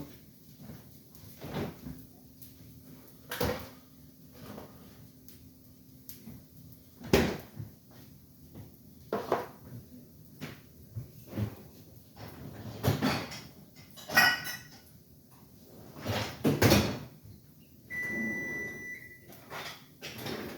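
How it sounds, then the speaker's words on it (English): Kitchen oven door opening and closing, a few sharp clunks and thuds scattered among quieter handling knocks and rattles in a home kitchen. "That was just the oven."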